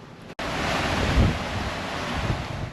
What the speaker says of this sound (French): on a le grain, le petit crachin breton